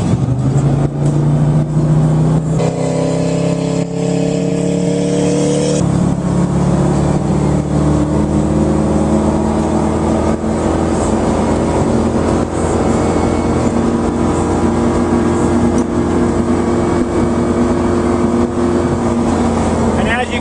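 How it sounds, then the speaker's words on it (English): A Supreme V226 ballasted motorboat's engine roars steadily on a lake, pitch climbing as it revs up and rises onto plane, then holding a strong, even drone with rushing water noise throughout. "This boat pops right on plane."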